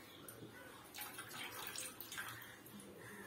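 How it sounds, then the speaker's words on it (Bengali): Water splashing and running as a conch shell is rinsed, a faint close trickle with brief louder bursts. "শঙ্করটা একটু ধুয়ে নেবো আগে"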